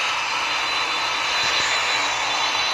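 Airbus Beluga aircraft engine in a flight video game, a loud, steady roaring whoosh that holds unbroken throughout with no talking.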